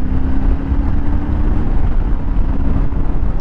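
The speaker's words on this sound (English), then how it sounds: "it sounds like very powerful engine, even that it is not" Yamaha Tenere 700 motorcycle engine droning steadily while riding, loud and close with a constant low hum and heavy wind rush throughout.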